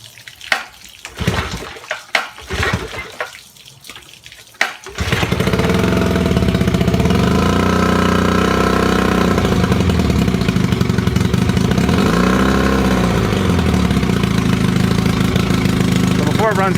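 A 1962 Johnson 10 hp outboard motor starts after a few sputtering attempts and then runs steadily and loudly, close by, with a constant drone and some slowly wavering tone.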